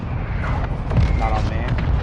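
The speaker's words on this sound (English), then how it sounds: "Mortar strike" Mortar strike explosions in MW2 on PS4, with dull booms and rumbling impacts rolling in one after another under steady talking.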